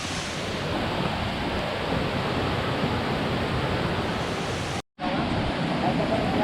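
Steady, loud rush of a waterfall in a forest near Dingalan, Aurora, a continuous broadband roar broken only by a brief drop-out, with no talk heard.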